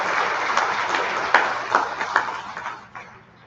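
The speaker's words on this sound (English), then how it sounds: "So another big round of applause." A crowd at a college athletic awards ceremony claps in a dense, steady round of applause. The clapping fades toward the end, and a faint voice can be heard beneath it.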